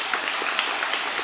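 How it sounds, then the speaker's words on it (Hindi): Audience applause for a man on stage at a business session, a steady wash of many hands clapping that carries evenly through the short stretch with no voices over it. "इनके लिए जोरदार तालियां"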